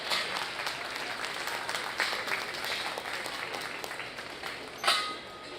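Applause fills a livestock show ring for junior market barrow exhibitors, a broad steady wash of many hands clapping at moderate distance, fairly faint, with a louder burst near the end.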